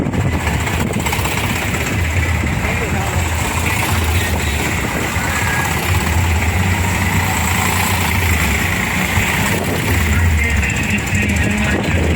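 Eicher tractor engines idle at a rally in Junagadh, a steady loud low rumble with a rough mechanical chatter that continues without break for the whole stretch.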